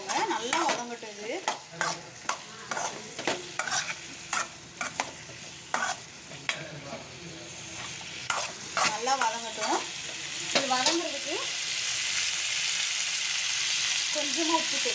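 Cashews and pepper are stirred and sautéed in a hot pan for paneer capsicum gravy. A spatula scrapes and taps in an irregular rhythm over a continuous frying sizzle that swells louder toward the end.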